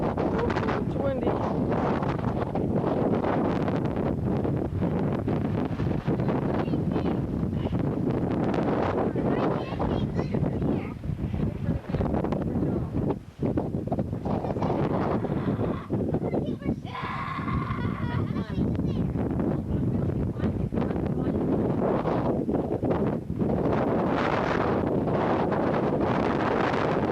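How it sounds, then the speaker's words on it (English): Strong wind gusts buffet the microphone at a meteorite crater out west, a loud roaring rumble that persists throughout, with brief faint voices and a slight lull midway. "It's windy."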